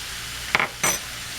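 Two quick scraping strokes of a utensil through flour and cooked chicken in a pan, short bursts close up over a quiet low sizzle.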